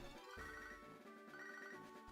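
Phone ringtone in a Pokémon HeartGold playthrough signalling an incoming call, a repeating electronic melodic tone, steady and moderately quiet, heard alone without talk.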